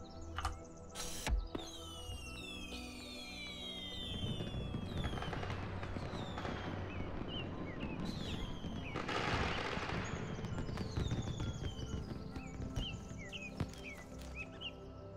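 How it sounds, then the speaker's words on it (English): Fireworks explode again and again in Talos Principle 2, a steady barrage of crackling, popping bursts with whistling rises, dense and loud for the whole stretch with a few sharper bangs. "The everlasting fireworks."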